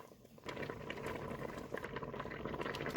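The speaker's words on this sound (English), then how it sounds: "You do want it to boil because you want that to cook down." Concord grape jam bubbling at a steady boil in a pot over medium-high heat, a continuous close bubbling and popping texture that swells after a quiet start and carries on alone without talk.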